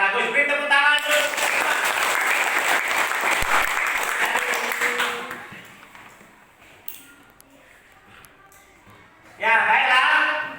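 A classroom group claps loudly for about five seconds, the applause fading into quiet room noise before another burst of clapping starts near the end.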